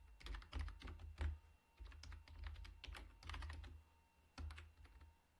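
Quick bursts of keystrokes on a computer keyboard as an Emmet abbreviation is typed for HTML, close and clear with short pauses between clusters of taps and no talking.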